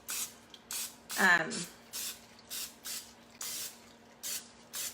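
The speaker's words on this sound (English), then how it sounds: "I'm gonna go ahead and spray this all the way down for the sides." Short hissing bursts of cooking spray coat a baking pan, sides included, for no-carb bread, repeating in a steady rhythm, about ten quick sprays, with a brief voice partway through.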